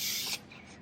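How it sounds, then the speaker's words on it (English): Tin-release wax spray hisses onto brioche baking tins in a short, close burst lasting about a third of a second, then fades to a faint continuing spray. "just give them a really good spray, because this brioche does stick"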